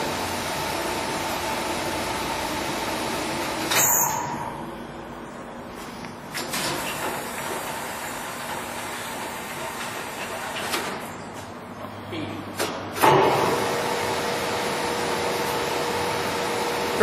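A LeBlond 19x54 heavy-duty lathe turning slowly at 46 RPM, its steady low mechanical hum and faint whine continuing throughout, with a few louder clunks and knocks from shop handling along the way.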